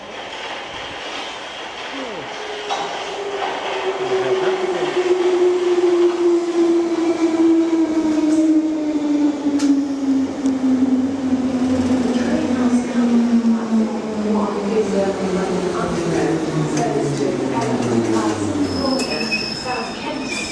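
A London Underground Bakerloo line train pulls in with long, high wheel squeals and a loud rumbling roar that slowly falls in pitch as it brakes into the platform.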